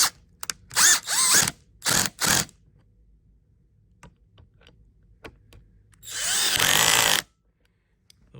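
Power drill driving Phillips and hex head fasteners tight on a Flexsteel furniture frame: several short close whirring bursts in a row, then one longer sustained run after a pause, with light clicks between.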